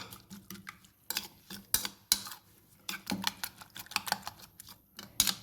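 Egg mixture with chopped onions being beaten in a bowl: a utensil clicks and taps rapidly against the bowl in irregular close bursts, with no talking.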